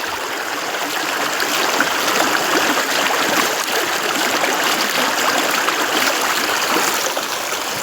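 A forest stream flowing through jungle, with continuous close water rushing and trickling at a steady, fairly loud level and no voices.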